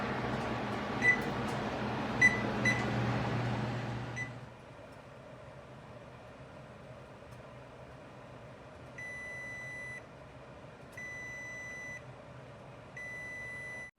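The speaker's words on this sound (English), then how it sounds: "Setting the timer." A kitchen timer is set while pork ribs are roasting, giving a series of short, evenly spaced electronic beeps in a quiet kitchen after a brief stretch of clattering background noise.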